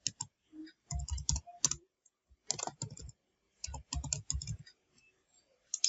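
Computer keyboard typing Python code, close and crisp, bursts of rapid key clicks separated by short pauses, clustered strokes then silence, repeated several times.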